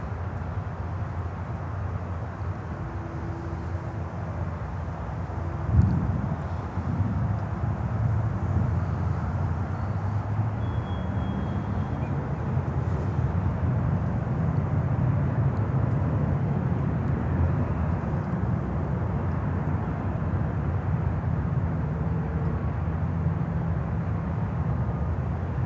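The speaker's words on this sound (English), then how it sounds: "There we go, Air Peace Embraer 145." An Air Peace Embraer 145 regional jet at Miami airport gives a steady, moderate engine rumble that holds evenly throughout, with a brief thump near the start and no talk.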